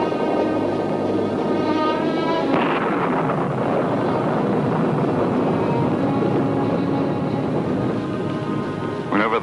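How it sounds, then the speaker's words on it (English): Thunder rolls in a 1964 film scene, a long loud rumbling roar lasting several seconds, preceded by a sustained tonal sound and heard without talk. "It's just a little thunder."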